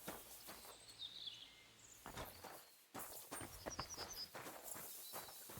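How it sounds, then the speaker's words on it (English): A horse walks in the medieval game Kingdom Come: Deliverance II. Its hooves give light, uneven clip-clopping steps at close range, with faint birdsong in the background. "There's a horse back there."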